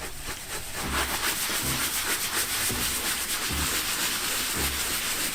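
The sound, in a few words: soft bristle brush scrubbing leather car seat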